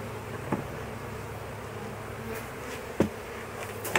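A honeybee swarm being moved into its new home in an apiary gives a steady low buzzing hum throughout, with a few brief knocks and taps of handling over it.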